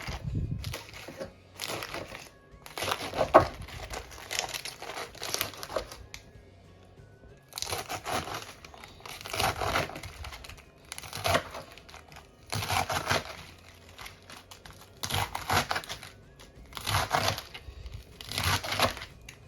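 Salad greens being chopped with a knife on a board, crisp crunchy cutting strokes in repeated bursts separated by short pauses, close and clear.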